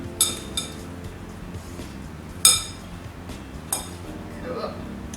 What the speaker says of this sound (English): Alright, so I just rough chop that and pop that in. Give it a mix around.